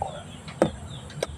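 A chicken clucks twice in short, separate calls, fairly close, with quiet outdoor background between.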